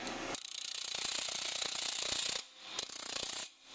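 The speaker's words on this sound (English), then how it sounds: "So gloves are a no-no when working with your grinder." A handheld grinder runs under light pressure on a workpiece, giving a steady, close, harsh grinding whir that stops briefly partway through and then resumes for a shorter burst.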